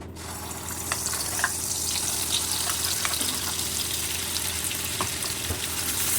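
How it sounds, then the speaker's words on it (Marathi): Ground spice masala hitting hot oil in a pan for Kolhapuri mutton rassa, a loud broadband sizzle that starts abruptly and holds steady with faint crackles throughout, no voices. "तेल तापलेलं आहे आपला मसाला त्यात घालायचा"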